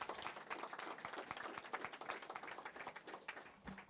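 Scattered applause from a small gathering at a construction company's grand opening of a new office, individual claps audible, fairly faint and distant.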